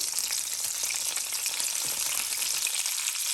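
Beef sliders fry in a ridged grill pan over low heat, giving a steady, close, dense sizzle with fine crackling pops throughout and no voices.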